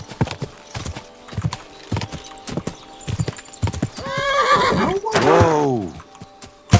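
Horse hooves clip-clop in a steady trot along a road in Kingdom Come Deliverance 2, then a horse neighs loudly twice, long whinnies rising and falling up close.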